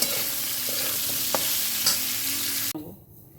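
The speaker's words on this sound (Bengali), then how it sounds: "এটাকে ফ্লেমটা আমি কিন্তু এখন হাইতেই রেখেছি কারণ ভাজতে বেশি সময় লাগবে না" Moringa drumsticks and potatoes fry on a high flame in a Bengali vegetarian dish with turmeric and salt, giving a loud, steady, close sizzle with a couple of light stirring taps before it cuts off sharply near the end.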